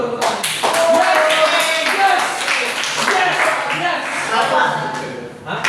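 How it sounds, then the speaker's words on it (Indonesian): Students in a micro-teaching classroom clap hands together on cue, a steady patter of taps running under overlapping voices and chatter throughout. "Tepuk tangan dulu, tepuk tangan."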